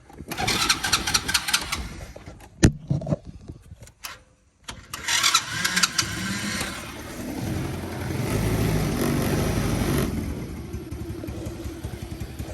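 A mini jeep engine with a balky choke cranks in short bursts, goes quiet, then catches and settles into a loud, steady, rough-running idle nearby.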